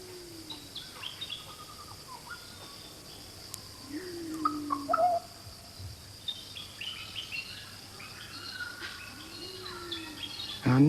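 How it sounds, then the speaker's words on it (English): A vulturine parrot calls in the jungle, with faint, scattered chirps and short whistled notes over a steady hiss of insects and forest ambience. A brief louder call stands out near the middle. "It's the vulturine parrot, not a pretty sight really"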